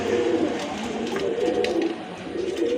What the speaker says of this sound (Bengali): আরেক জোড়া কবুতর আছে এখানে খুবই চমৎকার কালার ফুল কবুতর